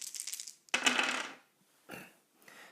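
Four dice rolled during a Betrayal at House on the Hill board game, heard as a close, sharp clatter followed by two shorter rattling bursts as they settle.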